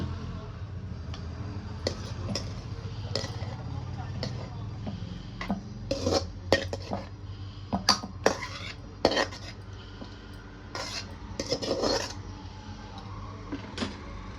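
Roasted tomato mixture being scraped and tipped into a mixer jar for grinding, with clinks of a metal spoon against the jar and scraping sounds over a low steady kitchen hum, close up and without talking.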